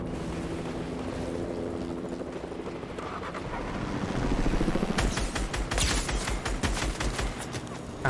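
Rapid bursts of gunfire in a Fortnite match crackle over a steady wind-like drone, growing louder and denser in the second half.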